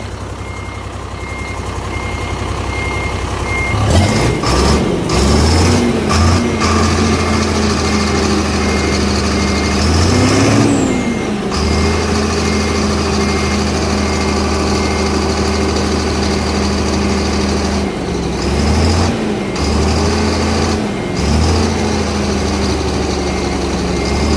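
An Isuzu 360 truck engine idles with a steady low drone after a clutch replacement, repeatedly interrupted by loud, close reversing beeps, with no voices.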